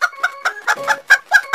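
Chickens in a garden clucking in short, rhythmic bursts, close and clear, with several quick calls in succession and no talking.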